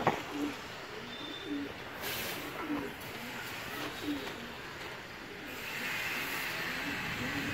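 Soft, low pigeon coos repeat a few times against a hissing outdoor background, fairly faint and at a distance.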